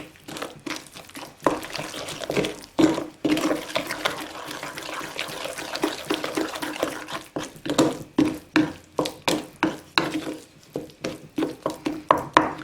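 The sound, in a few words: stirring flour and water into sourdough starter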